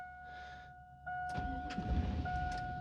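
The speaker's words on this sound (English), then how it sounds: "with the key in, try to crank it." A Chevy truck's ignition is turned with the key: warning chimes ring, then the engine cranks in a short rough churning burst that fails to catch, heard up close with beeping tones continuing over it.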